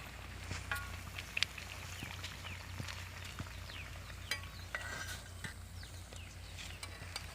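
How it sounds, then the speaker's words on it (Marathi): Malpua fry gently in oil, a faint, low bubbling sizzle with scattered soft pops and crackles over a quiet steady hum. "हे आता असेच थोडा वेळ तळायला ठेवायचे आहेत तर थोडे जरा दमानेस तळून घ्यायचे आहेत"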